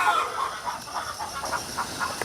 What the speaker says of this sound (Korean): 닭장 옆이라 좀 시끄럽군요.